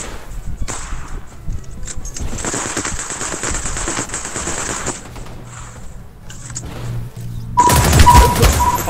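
Rapid automatic gunfire from an MK rifle with doubled fire-rate boost in a shooter video game, dense continuous rattling bursts, loud and close, ending in a heavier louder volley.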